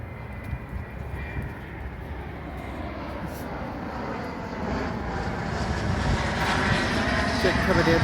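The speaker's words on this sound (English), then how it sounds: "Jet coming in to do a landing over at Harry Reid International Airport." A jet descends on approach to land at Harry Reid International Airport in Las Vegas, a broad steady rumble that swells gradually over a few seconds, heard from street level amid city traffic noise.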